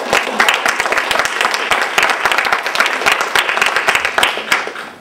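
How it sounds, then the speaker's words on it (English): Loud, close applause from the audience at a panel discussion on violence against women, dense individual hand claps rattling along for several seconds. "can we clap? Is that allowed?"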